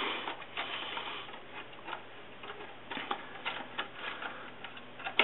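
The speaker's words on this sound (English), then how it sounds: "Just undo the thumb screw with a little handle." A hand-turned thumb screw with a small handle is undone on the drive plate of a MyBook Studio II 2TB enclosure, making a close run of small irregular ticking clicks with no talking.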